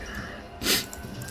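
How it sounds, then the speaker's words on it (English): A single short sneeze bursts out near the middle, close and sharp against quiet room background, with soft breathing before and after. "I have a sneeze coming."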